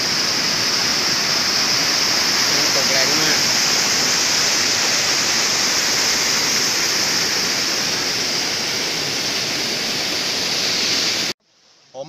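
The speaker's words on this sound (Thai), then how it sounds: "อุทยานแห่งชาติน้ำตกแม่วะ" Mae Wa waterfall in a Thai national park in Lampang roars as a steady, loud, broadband rush of falling water close by, unbroken for about eleven seconds before cutting off abruptly.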